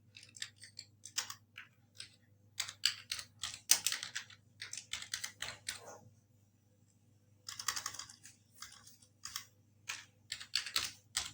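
Computer keyboard keys clatter in quick, uneven bursts of close, crisp clicks, with one brief pause partway through before typing resumes.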